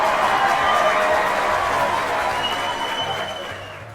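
A crowd applauds steadily with dense clapping that slowly fades toward the end.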